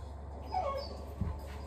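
A dog whimpers softly with a brief rising whine and a short yip, heard close and alone against a steady low background hum.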